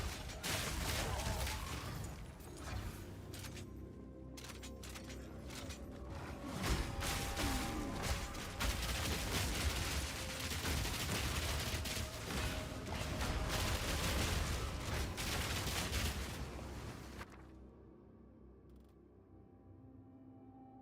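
Grenadier enemies in Path of Exile 2 fire in a dense, chaotic barrage of bangs, crashes and mechanical clatter that goes on for many seconds before thinning out into quieter game noise.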